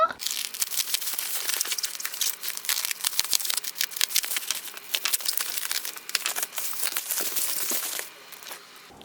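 Packaging crinkles and rustles steadily for several seconds as a boxset parcel is unwrapped indoors, close and fairly loud, with dense crackly bursts and no pause until near the end.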